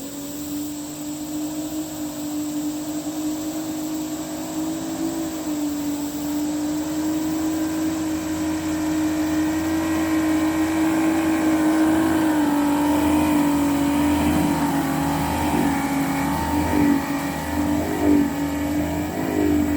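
A Yamaha engine, part of a JB Weld repair project, runs with a steady droning hum that swells as it revs up, at moderate distance with no talk over it.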